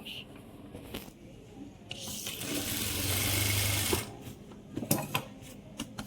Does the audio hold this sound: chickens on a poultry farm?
no